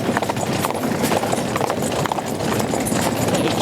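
Pair of cob horses cantering on a bouncy, rattly track, their hooves clip-clopping loudly and rapidly in a continuous close rhythm.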